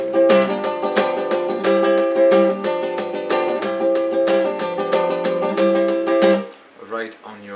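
Flamenco guitar strums an alegrías compás, with sharp golpe knocks on the guitar top punctuating the rhythm, loud and close; the playing stops near the end.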